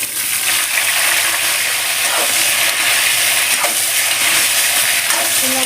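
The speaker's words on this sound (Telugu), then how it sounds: "మంచిగా వేగుతున్నాయి వంకాయ" Eggplants frying over a high flame in a little oil make a loud, dense, continuous sizzle and hiss up close, with faint stirring scrapes mixed in.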